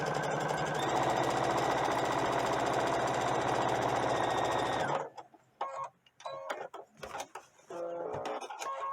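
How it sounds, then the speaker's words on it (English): A sewing machine top stitches a rolled edge on doll clothes, running steadily and loudly for about five seconds before stopping, followed by scattered small clicks and handling sounds. "I'm just going to roll that under like this and top stitch the edge."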